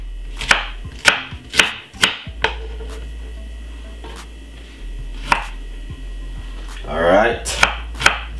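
Okra is chopped with a knife on a board while making a healthy summer juice: a dozen or so sharp, crisp cuts in an uneven rhythm, close and loud, with a single brief spoken word.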